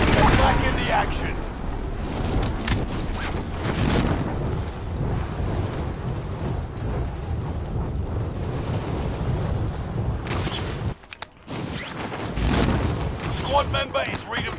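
Near-continuous loud bursts of in-game gunfire and explosions from a squad-based shooter, dense and sustained through nearly the whole stretch with a brief dropout, under a player voice talking.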